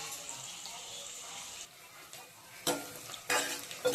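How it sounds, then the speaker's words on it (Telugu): Onions stirred and frying in a pan, a steady close sizzle with a few louder bursts of scraping and stirring toward the end. "మనం ఆనియన్ రెడ్ కలర్ వచ్చేదాకా వేపాలి."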